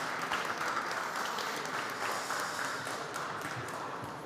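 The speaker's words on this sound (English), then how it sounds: "please give a round of applause to the 3 gentlemen on stage" An audience at the Tallinn Digital Summit applauds three gentlemen on stage, dense sustained clapping from a large crowd that holds steady and tapers slightly toward the end.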